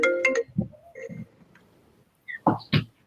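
A phone ringtone goes off during an online panel session, with a short tonal burst at the start followed by several loud bursts near the end, mixed with brief voices.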